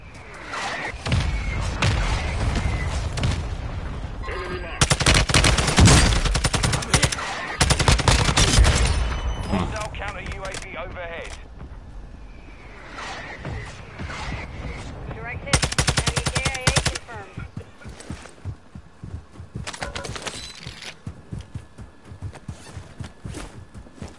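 Video game combat with dense bursts of machine-gun fire and scattered gunshots, loud and sustained in several waves, mixed with incoming fire and footsteps, with radio-style voices talking at times.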